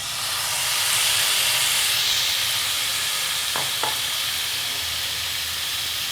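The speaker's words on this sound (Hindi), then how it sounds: "एक पैन में हम ये चिकन को ऐड कर देंगे।" Chicken frying in a pan over a high flame gives a loud, even hiss throughout, with two quick clicks near the middle.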